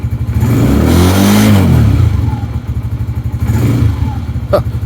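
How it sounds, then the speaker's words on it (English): A Lifan King motorcycle engine, nearby, revs up in a rising-and-falling surge, drops back to a throbbing idle, then revs again more briefly, with a sharp click near the end. "Watch what happens when I rev the engine."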